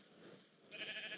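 Sheep bleat in the Stoneblock video game, a brief faint animal call rising near the end after a quieter lead-in, heard alone with no talk.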